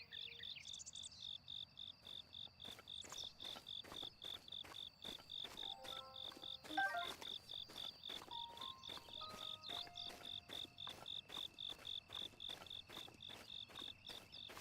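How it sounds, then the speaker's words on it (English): Crickets chirp in Zelda: Breath of the Wild, a steady, rapid pulsing trill that fills the whole stretch at a soft level, with a few brief tonal game sounds over it and no talk. "Crickets. Where are crickets?"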